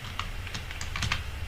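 Quick bursts of key presses as code is typed on a computer keyboard, light irregular clicks close by over a faint room hum.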